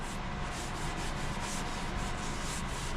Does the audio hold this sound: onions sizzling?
no